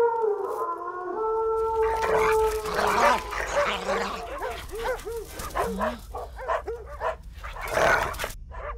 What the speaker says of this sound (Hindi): ये इतने सारे कुत्ते